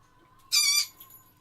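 A single harsh bird squawk, short and fairly close, bursts out once above a quiet indoor background with no talking.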